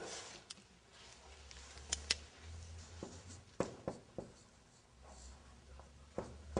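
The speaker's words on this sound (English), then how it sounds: "if I write here" Marker or chalk strokes on a board during an Arabic conjugation lesson, a series of sharp scratchy taps and short squeaks at an irregular pace, close and moderately loud over a low room hum.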